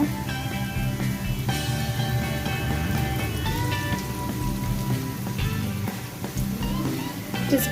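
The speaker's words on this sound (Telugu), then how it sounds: "చూసారు కదా, పెనం బాగా వేడెక్కింది, ఆయిల్ బాగా మరిగింది అన్నమాట." Cabbage pakoda frying in hot oil in a pan, a steady dense sizzle and crackle like rain, with a voice faintly audible beneath it.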